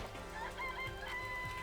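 Chickens in a coop in the Danganronpa video game cluck in a quick, repeated series of short calls with a higher crowing note, steady and close, with no talk over them.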